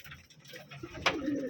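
Rajshahi Giribaz pigeons coo softly in a loft, a faint, low, rolling call rising out of quiet background murmur near the end.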